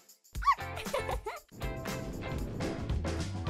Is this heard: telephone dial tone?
no